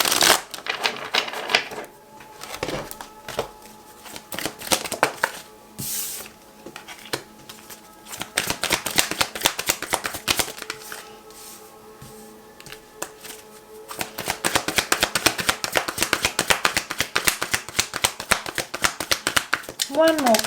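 Tarot cards are shuffled in repeated bursts of quick riffling and flicking, close and fairly loud, with a brief pause midway before the shuffling resumes.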